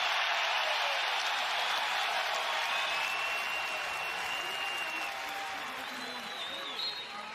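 A packed arena crowd at Carver-Hawkeye Arena roars and applauds during the 2020 Penn State at Iowa wrestling meet, a dense, sustained wall of cheering that eases slightly toward the end.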